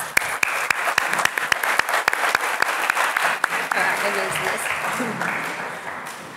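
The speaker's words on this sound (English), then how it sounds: "let's give Miss Giudice the big round of applause she deserves" At a Year 12 high school graduation, the audience gives a teacher a round of applause: steady, fairly distant clapping with a few sharp, distinct claps standing out, and voices mingling in the background.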